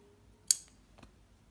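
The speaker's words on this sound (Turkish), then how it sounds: "ipliğimi kesiyorum" Scissors snip yarn with one sharp close click, then a fainter second click a moment later, in an otherwise quiet room.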